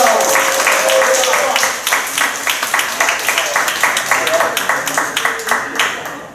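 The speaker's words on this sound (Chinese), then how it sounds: "哇，掌声那么热烈" An audience at a church testimony event applauds warmly, a dense, steady wash of many hands that loosens toward the end into scattered, rhythmic claps, with faint voices mixed in.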